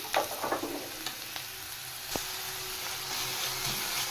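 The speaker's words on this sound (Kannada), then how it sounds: "ಇದನ್ನು ಚೆನ್ನಾಗಿ ಫ್ರೈ ಮಾಡ್ಕೋಬೇಕು" Beans and carrots frying in a pan for sweet corn fried rice give a steady soft sizzle, with a few sharp clinks and scrapes of stirring early on and a single spatula knock midway.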